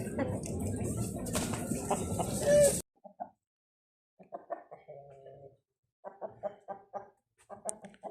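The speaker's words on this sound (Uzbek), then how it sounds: "Fevral jo'jasi" Chickens and young February chicks cluck at a busy poultry market in Andijan, bird calls and chatter dense at first, then sparse clucks and cackles stand out against quiet.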